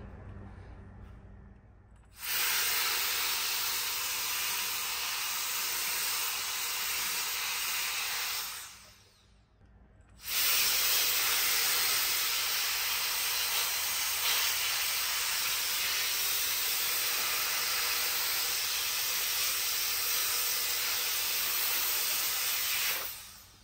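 A portable jet compressed-air blower lets out a loud, close, steady hissing rush in two long bursts, separated by a brief pause, with no talking over it.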